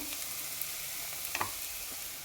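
Onions fry in oil in a pan for a cauliflower and drumstick curry, a steady close sizzle and crackle with a few faint stirring clicks.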